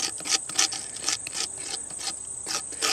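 A knife edge scrapes the hairs off a squash skin in quick rhythmic strokes, about ten close, dry rasping scrapes with short gaps between them.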